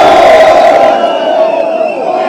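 A large crowd at a political rally roars and chants loudly and continuously, a dense wall of voices with no gaps.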